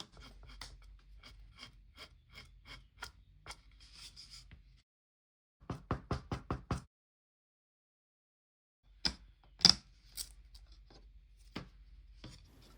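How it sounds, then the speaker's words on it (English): Short rasping strokes of a file on an X-Acto knife trimming the edges of foam grip tape on a small wooden fingerboard bench made from Jenga blocks, coming in quick close bursts separated by pauses. "using the file on my X-Acto blade with the blade part out"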